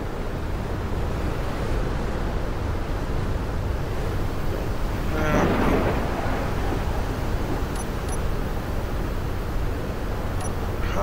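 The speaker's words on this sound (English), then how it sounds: "It's dangerous being out in a storm." A storm sweeps across the Martian surface in the game Space Engineers: a loud, steady roar of wind-driven noise that swells slightly midway and continues without any talk.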